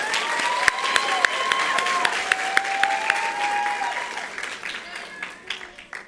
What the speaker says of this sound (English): One more round of applause for the 4 to 6-year-olds.